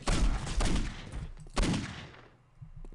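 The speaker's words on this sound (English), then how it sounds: "Shoot these guys up." A burst of gunfire in the video game Postal 2: a few loud, cracking shots in quick succession, then a later shot, each trailing off into a fading echo.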